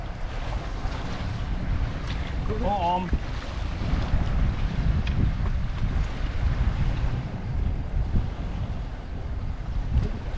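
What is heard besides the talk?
strong wind and rough water at a bridge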